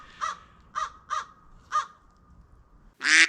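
A crow caws four times in a slow, uneven series at a campground in Quebec, clear against a quiet background, followed by a louder, harsher burst right at the end.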